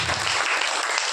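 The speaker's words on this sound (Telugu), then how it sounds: "చప్పట్లు కొట్టి." A church congregation at a fasting prayer meeting claps hands together, a dense, continuous burst of applause filling the room at close range.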